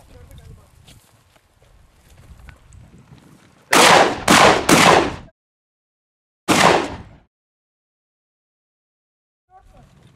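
Shotguns fire at a flushed Anatolian partridge during a hunt in the countryside: three loud, close blasts in quick succession, then a single fourth shot a couple of seconds later, with quiet rustling and faint movement before and after.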